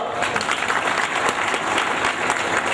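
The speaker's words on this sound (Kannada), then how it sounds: "ಚಪ್ಪಾಳೆ ಕಳಿಸಿ ತಟ್ಟಿದ ಗಂಡಸರಿಗೆ ಧನ್ಯವಾದಗಳು" Men in the audience at a village goddess fair (jatra festival) clapping loudly, a dense, sustained burst of applause from a crowd that holds steady throughout.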